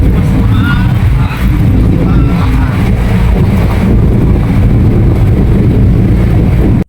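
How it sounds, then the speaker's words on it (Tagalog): Strong wind roars over a vessel at sea on a long ferry crossing, a loud, constant rumbling buffet that continues steadily throughout. "At ito yung lakas pa ng hangin dun sa baba."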